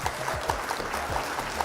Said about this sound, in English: Alright, round of applause.